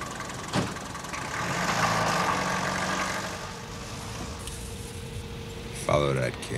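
Underpowered car engine chugging along at low revs, a steady mid-loud drone with people talking over it.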